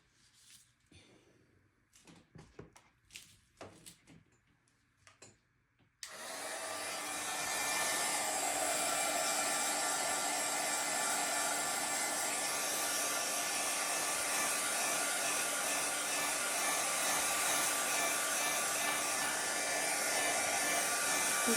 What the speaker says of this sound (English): I'm just gonna blast this with the heat gun now